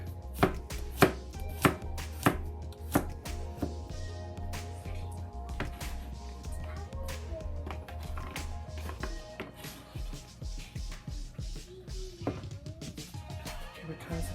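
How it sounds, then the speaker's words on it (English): Garlic sliced with a knife on a cutting board for Kung Pao chicken gives a run of sharp, close chopping knocks, quick and fairly regular at first and then sparser, with occasional talk. "We need to slice it, the garlic."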